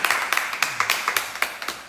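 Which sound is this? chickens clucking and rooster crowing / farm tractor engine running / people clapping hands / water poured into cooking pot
people clapping hands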